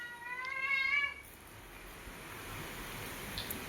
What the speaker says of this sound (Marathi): ह्या मांजराची योग मध्येच म्याव म्याव म्याव म्याव